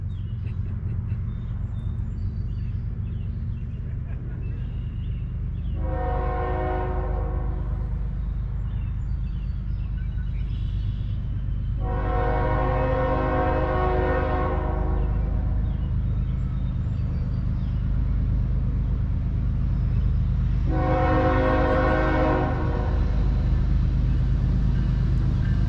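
A CSX M403 manifest freight train rolls slowly through Piscataway, NJ, its horn sounding three separate sustained blasts over a steady, heavy low rumble of the passing cars.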